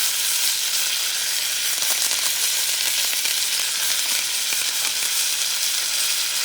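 Bison sirloin steaks sizzle in a pan with thyme, a dense, loud, continuous frying hiss held close up with no talk.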